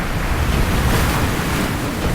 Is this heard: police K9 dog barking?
no